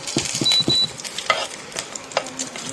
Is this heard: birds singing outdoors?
no